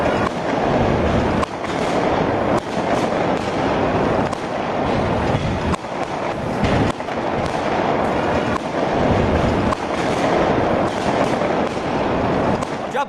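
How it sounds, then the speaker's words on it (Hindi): Fireworks and firecrackers burst continuously in a street celebration across India, a dense, loud crackling barrage with sharp repeated pops and no pause. "आतिशबाजी हो रही थी, लोग पटाखे फोड़ रहे थे"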